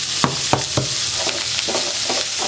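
Spices and an onion mixture stirred in a frying pan, a few sharp scraping strokes early on, then a steady soft sizzle with lighter stirring beneath it.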